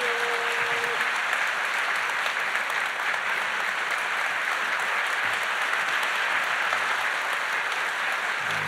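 A church congregation stands and applauds its pastor, a steady, dense wall of clapping that fills the sanctuary without pause.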